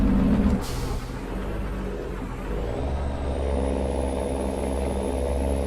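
A simulated truck engine in American Truck Simulator drones at close range with a deep, steady rumble, a brief hiss like an air brake early on, and then a low growl that deepens as it pulls.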